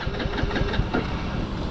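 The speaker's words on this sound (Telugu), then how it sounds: "మళ్ళీ నేను స్టార్ట్ చేస్తున్నా, స్టార్ట్ అవ్వడం లేదు." Hero HF Deluxe BS6 motorcycle engine failing to start: a close, steady mechanical chugging and rattling that keeps running without catching, with no talking.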